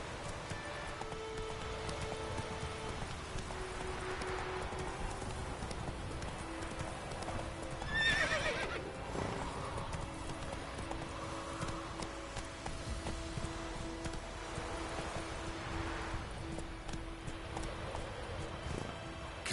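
A horse gallops in The Witcher 3, with steady, rapid clip-clop of hooves throughout and a brief whinny partway through, set against quiet game background sound.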